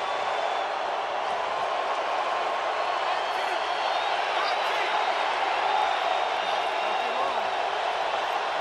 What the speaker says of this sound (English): Crowd is in full throat.